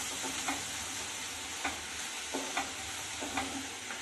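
Samosa filling with garam masala and ginger-garlic paste stirred and fried over low heat, a continuous soft sizzle with several light spoon scrapes against the pan at irregular intervals, close, with no voices.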